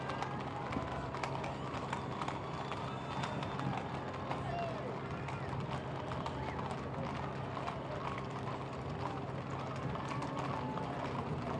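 Horses carrying riders clip-clop steadily through the Houston Livestock Show and Rodeo parade, a continuous patter of many hooves at moderate distance under an announcer's amplified voice and crowd noise.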